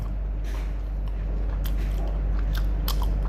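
Someone eats steamed snakehead fish curry in banana leaf, with close, soft chewing and crunchy bites repeating steadily over a low constant background rumble.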